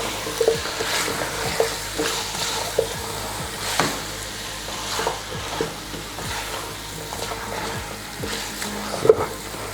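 Potatoes and chilies fry in a pot for chicken pilau, a close steady sizzle broken by repeated scraping stirs of a spoon every second or so.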